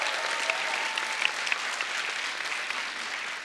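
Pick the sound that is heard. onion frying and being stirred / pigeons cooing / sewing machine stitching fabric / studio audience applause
studio audience applause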